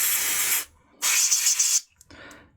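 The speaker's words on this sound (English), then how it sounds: "I've got a bit WD-40 contact cleaner." WD-40 contact cleaner sprayed from a can onto a Nintendo GBA that won't turn on, in three short hissing bursts with brief pauses between them, loud and close.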